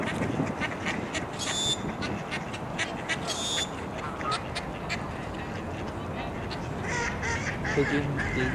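Ducks quack among geese at a park lake, several calls scattered over steady outdoor ambience, with brief honk-like bursts and background voices present throughout.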